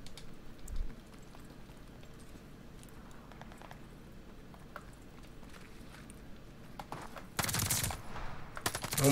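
MP40 submachine gun fire in Call of Duty Vanguard crackles in repeated quick bursts through game action, fairly faint overall, ending in a louder, denser volley near the end.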